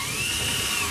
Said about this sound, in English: So I'm taking my 9/32 drill bit again.